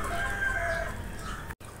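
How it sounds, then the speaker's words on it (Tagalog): A hen clucks and crows on a small farm, a steady nasal call held for over a second, near and fairly loud, with no talk. "At may inahin naman akong manok."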